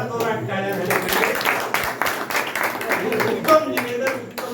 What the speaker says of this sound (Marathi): यासाठी एका दोन टाळ्या झाल्या पाहिजे.